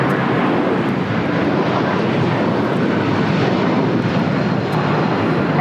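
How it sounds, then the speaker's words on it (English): Loud, steady broadband roar of a United Airlines Boeing 757-300 taking off from LAX, a continuous jet-engine rumble holding level throughout with some wind buffeting on the microphone. "This is United Airlines 1260 taking off to Denver, Colorado on a 757-300."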